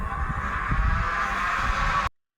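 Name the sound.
electric toy foam dart gun motor whirring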